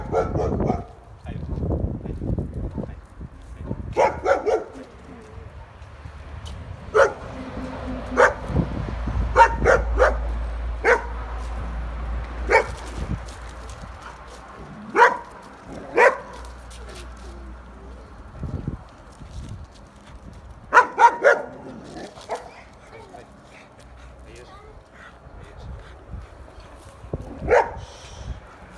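A young dog of about ten to eleven months, a stray met on the street, barks repeatedly in sharp single and double yaps at moderate distance, with someone talking at times underneath.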